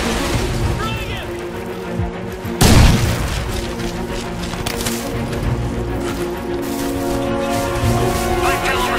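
A frag grenade explodes in the video game Crysis 3, a single heavy boom cutting through dense battle ambience and a rumbling soundtrack, loud and close.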